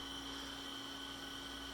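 A vacuum pump evacuates a homemade vacuum tube chamber, giving a steady, faint mechanical whir with a constant hum and no change over the whole stretch.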